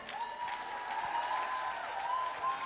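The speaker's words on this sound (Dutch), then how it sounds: "Dus nog één keer een verschrikkelijk goed applaus." Audience applause at a Dutch stage show honoring a performer, a steady wash of clapping sustained at moderate level throughout, with a faint tonal hum running underneath.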